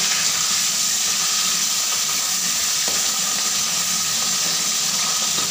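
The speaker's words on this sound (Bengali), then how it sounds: "এইভাবে উল্টে পাল্টে আমি মাছের মাথাগুলো ভেজে নেব" Fish heads for a pumpkin ghonto fry in oil as a loud, continuous hiss and crackle, with faint occasional taps from turning them in the pan and no speech.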